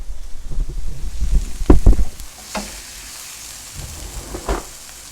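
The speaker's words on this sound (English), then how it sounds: "we're going to finish up browning this sausage" Close stirring and scraping of sausage browning in a hot pan over a soft sizzle, with a few louder clatters early on before it settles into quiet frying.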